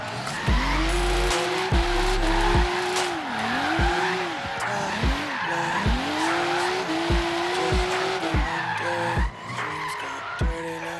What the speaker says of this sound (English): Here's a little clip of me using the wheel on a car racing game.